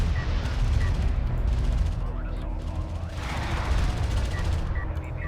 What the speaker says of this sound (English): Here comes a ton of carrier missiles.